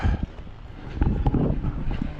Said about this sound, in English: Kind of windy today, but it's not chilly.